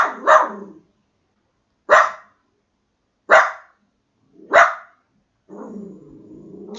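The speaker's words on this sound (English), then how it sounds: "that was my dog Gino barking in the background" A dog barks four times in separate loud, close bursts spaced more than a second apart, then a lower, drawn-out growling whine follows at the end.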